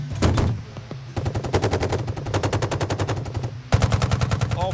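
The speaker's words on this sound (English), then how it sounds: "blast the crap out of the hillside with a bunch of cool guns" Machine guns firing on an outdoor range against a hillside in long rapid bursts, loud and close, with a short pause before each new burst and sharp echoes rolling back from the slope.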